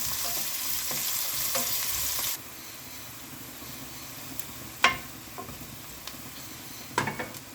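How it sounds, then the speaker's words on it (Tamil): Big onions sautéing in a pan for chicken biryani, a steady broadband sizzle that drops quieter partway through, punctuated by a few sharp scrapes and clacks of a spoon against the pan. "நல்லா வதங்கட்டும்."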